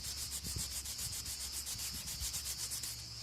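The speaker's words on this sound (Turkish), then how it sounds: "Bir de alttan böyle zımpara yapın." Steady rhythmic hand sanding on a Tofaş car's headlight brow panel, repeated back-and-forth abrasive strokes, close and continuous with no talking.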